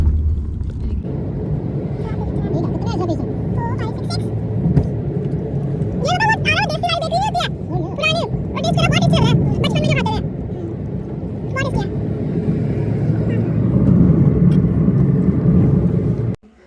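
Steady low road rumble from inside a car driving around Dharamshala, continuous for the whole stretch, with people talking over it in the cabin.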